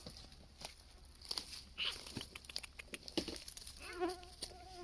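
Faint, thin whine of mosquitoes drifts over a quiet outdoor background, with scattered rustles and soft steps nearby.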